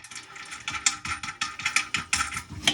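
A nut and washer being hand-threaded onto a toilet closet bolt during a Project Source toilet install, giving a run of quick, close metallic clicks and ratcheting ticks in irregular bursts, with no talking.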